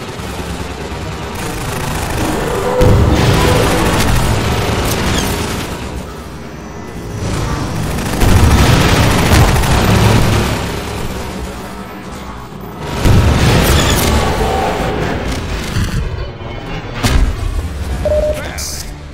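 A rocket launcher duels a gunship in Half-Life 2 on coastal Highway 17: heavy booms and rumbling blasts swell and fade in waves over a continuous engine-like drone, with a voice speaking over the battle.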